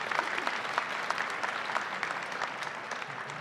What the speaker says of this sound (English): Let's give them a round of applause for being with us.